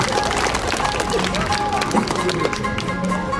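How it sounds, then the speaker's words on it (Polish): Audience applause at a magic show, a dense, steady wash of clapping and crowd noise that holds at an even loudness throughout. "Wielkie brawa Wiktora"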